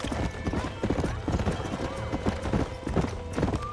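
Hooves clip-clop in a quick, steady trot close by, with a horse's whinny and some game sound effects underneath, in Red Dead Redemption.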